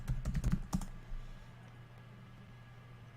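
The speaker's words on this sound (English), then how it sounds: "So go ahead and type your system password here." A password is typed on a computer keyboard: a quick burst of close, crisp key clicks in the first second, then quiet room hiss.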